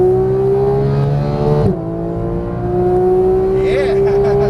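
A Porsche 991 GT3 race car engine (475 hp) holds a steady high-revving drone on track, briefly easing off before climbing back under throttle, loud and close.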